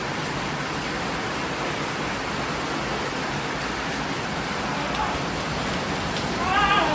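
Rain falls outdoors in Bicol, Philippines, as a dense, even hiss of drops that fills the whole stretch, with a slight swell near the end.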